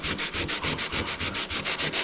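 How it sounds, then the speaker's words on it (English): Fiberglass surfboard repair sanded by hand with 120-grit sandpaper: about a dozen even back-and-forth strokes in a steady, brisk rhythm, close and loud with no talk. "just lightly sand like this"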